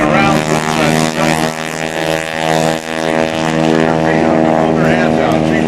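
Stunt biplane gliding with its engine pulled back during a wing-walking act at the 2004 NAS Oceana airshow: a steady, loud droning hum with a commentator talking over it throughout.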